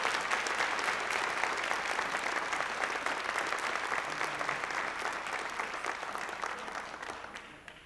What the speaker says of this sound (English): Can we please give a round of applause to Linda Chamberlain?